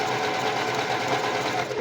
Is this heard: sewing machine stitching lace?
yes